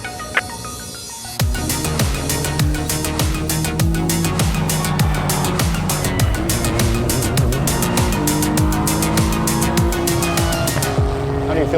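Acura race car engine revving hard through a lap, loud and close, with rising and falling gear changes, sharp upshifts and a constant high-pitched whine after it fires up from a short quiet start.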